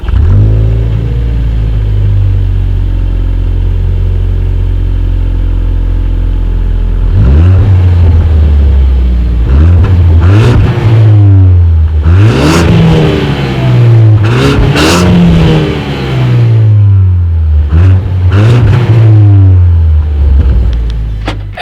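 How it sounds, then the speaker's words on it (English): A 2018 Ford Focus ST with a center-mounted exhaust idles with a loud, steady drone, then revs repeatedly in sharp rising and falling blips, close and with no talking. "Here is that exhaust clip."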